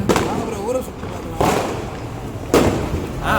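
Diwali firecrackers bursting nearby, three sharp loud booms spaced about a second apart, with people's voices chattering in between.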